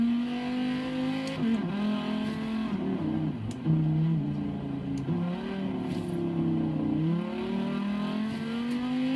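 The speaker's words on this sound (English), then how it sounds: "The sound of the Viper." Dodge Viper engine note in Forza Horizon 3, a loud continuous drone that climbs and drops through gear changes during a street race, close and alone without voices.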